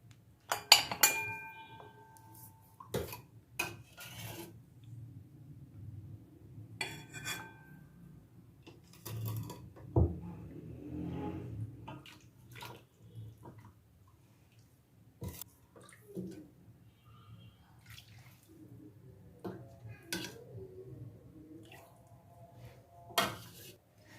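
Goat trotter curry (mutton paya) being ladled into a serving dish: scattered clinks and knocks of a ladle against metal and glass dishware, with a low hum underneath and no talk.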